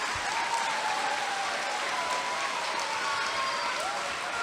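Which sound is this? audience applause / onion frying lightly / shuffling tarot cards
audience applause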